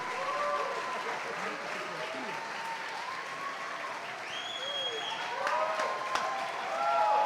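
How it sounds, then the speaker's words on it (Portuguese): A church congregation claps in sustained applause during a pastors' consecration service, a steady dense patter of many hands filling the room, with voices calling out and singing under and over the clapping. "As palmas ao Senhor"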